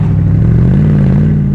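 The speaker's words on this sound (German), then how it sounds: "dieses Donnern der Auspuffrohre" A 2008 Mercedes SLR McLaren Roadster's side-exit exhaust pipes, two on each side, give off a steady, deep, loud rumble that holds even throughout a short burst with no voices.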